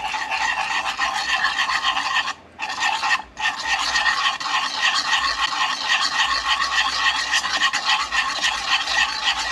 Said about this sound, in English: Use a whisk, kind of break up the miso.